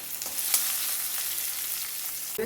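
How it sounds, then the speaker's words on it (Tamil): Small onions frying in a pan, a steady dense sizzle with faint stirring scrapes, close and continuous with no talk. "சின்ன வெங்காயம் நல்லா வாசம் வந்துருக்கு ஸோ நல்லா வதங்கிடுச்சு"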